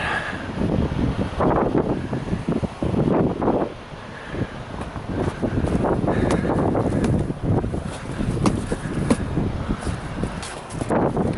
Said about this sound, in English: The wind's coming from the north, I guess.